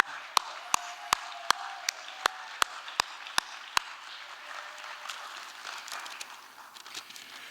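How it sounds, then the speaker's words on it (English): About ten sharp, evenly spaced claps ring out close and crisp in a theatre during a live evening performance set, then stop, leaving a faint room murmur. "Let's give Lou a big round of applause."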